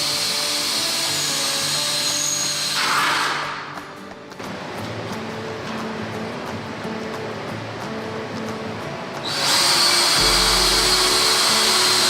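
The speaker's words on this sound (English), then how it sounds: "I'm pre-drilling all the supports with holes for the screws that will attach the supports for the wood rack securely." Power drill pre-drilling screw holes in wooden supports for a woodshop lumber rack, steady loud whirring bursts at the start and end with a quieter stretch of workshop noise between.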